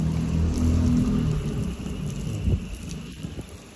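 A high-pressure jet of water sprays hard from a household tap, a dense, steady hiss with low splashing rumble that fades slightly toward the end, with no voices.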